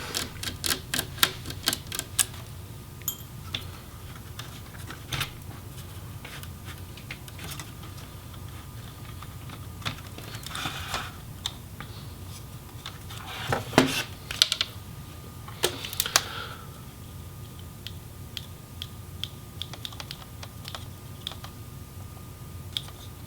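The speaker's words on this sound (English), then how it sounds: "we'll go ahead and also remove the fan screws" Fan screws being taken out during disassembly of a Dell G7 7588 laptop, heard as a close, quiet string of small irregular metallic clicks and ticks with brief ratcheting bursts, no talking.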